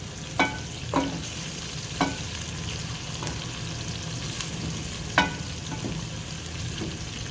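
Onions softening in a pan for an okra masala, a steady low sizzle with a few sharp scrapes of a spoon against the pan at irregular intervals; no one speaks.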